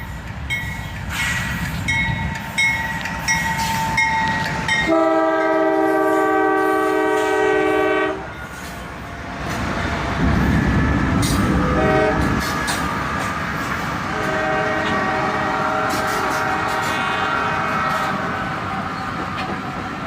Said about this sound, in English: Another summer day and another train. This time, there's 7 locomotives.